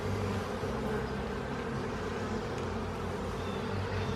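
Honeybees buzz steadily during a beehive inspection, a dense, continuous close drone filling the whole stretch without pause, with no talking.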